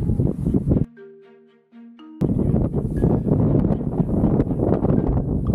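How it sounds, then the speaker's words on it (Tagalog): Loud, blustery wind buffeting the microphone with a deep roar, broken briefly by a quieter stretch with a tonal hum before the gusts return. "napakalakas ng hangin dito. Grabe."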